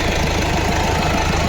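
A used Hyundai Verna diesel idles close by with a steady, loud, low rumble and a slight rhythmic knock, continuous and without voices.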